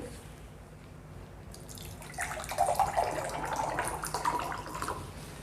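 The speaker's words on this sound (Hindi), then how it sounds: "एक में हम दे रहे हैं आरओ का पानी" RO-filtered water is poured into a drinking glass, a faint splashing trickle starting after a quiet moment and running for a few seconds.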